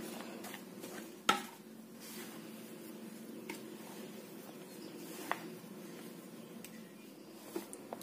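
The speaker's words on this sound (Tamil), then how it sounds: "ஃபர்ஸ்ட் கரண்டி வச்சு எல்லா இடத்துலயும் கிண்டிடுங்க" A ladle stirs sweet moong dal dough in a pan. It makes quiet, soft scraping and squishing with sparse light clicks against the metal over a faint background hum.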